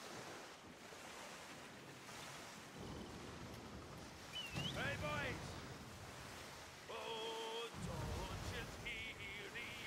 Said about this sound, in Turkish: rüzgar karşıdan esiyor ya